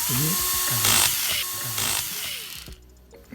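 A power driver whirs in short bursts, tightening the longer M3x8 screws supplied with an RWD conversion kit into a radio-controlled car chassis. The work is close and alone, and a clack ends it.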